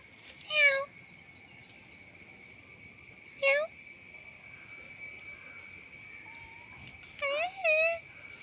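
A stray cat meows three times, close and clear, with long gaps between the calls and a faint steady electrical whine behind it.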